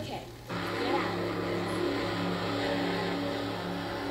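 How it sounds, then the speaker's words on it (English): A new dragster engine revs in the LEGO Drome Racers video game, a sustained mid-pitched game-engine drone that starts abruptly and holds steady and fairly loud, with a voice talking over it. "I'm going to test out this new dragster I got."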